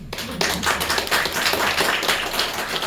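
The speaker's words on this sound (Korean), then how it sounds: "이제 알았으면 박수 한번 쳐보세요." Congregation members at a church gathering clap together after a short pause, a close, loud burst of many hands that continues steadily, slightly uneven.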